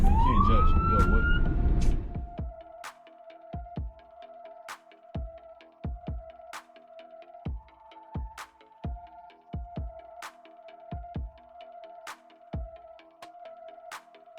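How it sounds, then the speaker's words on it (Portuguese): A brief siren wail rises at the start, then a steady tone with repeated low thumps and clicks continues at an even rhythm. "aparece o carro de polícia com a sirene ligada."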